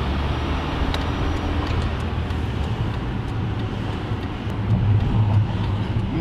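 Steady wash of dense highway traffic on a five-lane road with many lorries, a continuous broadband rumble with low engine drone swelling slightly near the end, no distinct passes standing out.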